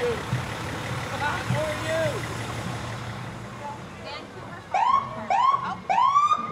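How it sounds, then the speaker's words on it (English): A Vancouver Fire Department fire engine rolling past in a parade, giving three loud rising whoops of its siren near the end over a steady crowd-and-traffic rumble, with voices in the background. "That's engine 2 from Vancouver Fire."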